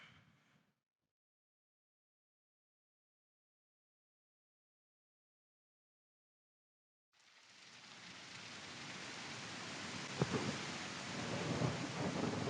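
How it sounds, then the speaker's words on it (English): Simulated thunderstorm in a game engine demo: brief noise, then several seconds of silence before dense, steady rain swells in with a sharp thunder crack and rumbling, heard alone without talk. "We can even change this sunny day into a thunderstorm."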